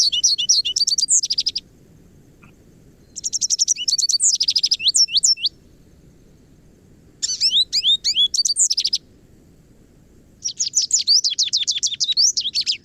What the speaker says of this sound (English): the quality of the song sounds like birds chattering together. But it has a mix of twitters and warbles to this chatter